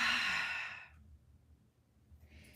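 A single long, loud exhale of breath fades out over about a second, followed by quiet room tone and a faint hiss.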